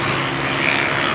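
Motorcycles passing over an expressway overpass in Islamabad, heard from below as a steady, loud engine drone with a broad roar for the whole short moment.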